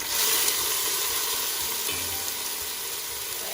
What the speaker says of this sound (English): you are going to start to saute your onions and your garlic until they're nice and translucent